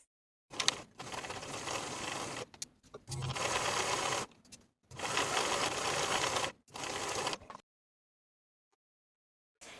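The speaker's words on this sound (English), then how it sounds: "Sew the dart from the bottom to the point" Sewing machine stitching a dart on a dress bodice, running in several bursts of steady mechanical whirring separated by short pauses, then falling silent near the end.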